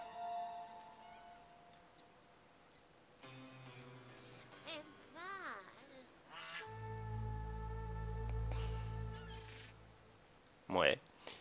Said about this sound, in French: Oh, des oies.